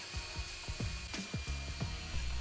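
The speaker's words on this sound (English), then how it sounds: "I clamped the steel down and drilled a hole on each end, using a liberal amount of cutting oil to lubricate" A hand drill fitted with a 5/16 inch cobalt bit bores a hole in clamped steel lubricated with cutting oil, giving a close, steady grinding whir with repeated rhythmic catches and clicks.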